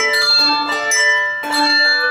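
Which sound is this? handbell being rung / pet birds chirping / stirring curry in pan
handbell being rung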